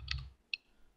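Two sharp, quiet mouse clicks, about half a second apart, come from a computer mouse being right-clicked while working in the Unreal Engine 5 editor, in an otherwise near-silent room.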